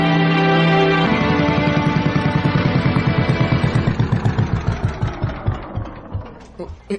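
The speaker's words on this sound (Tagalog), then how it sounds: "Nagkaproblema man ang makina sa pambot. Patay-patay man ang andar." Motor boat engine with a fault, idling with dense rapid chugging that slows into uneven, spaced pulses and sputters as it starts cutting out, loud and close, with no talk over it.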